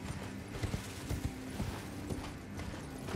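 Horse hooves clip-clopping at a gallop in the Elden Ring video game, a fairly quiet, steady stream of soft thuds over low background game ambience.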